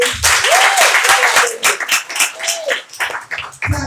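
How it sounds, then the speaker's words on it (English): An audience at a school storytelling festival in Jamaica applauds Mr. Harvey with loud, sustained clapping, while a few faint whoops and voices ride on top of the crowd's steady rattle. "Clap Mr. Harvey."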